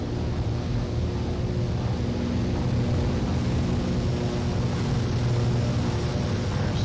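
Steady loud drone of a Piper Turbo Arrow piston engine during takeoff in a flight simulator, a continuous broadband roar with a constant engine hum, no talk.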